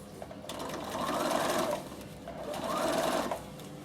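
A Bernina sewing machine stitches a zip in two close bursts of rapid whirring, each about a second long, separated by a short pause.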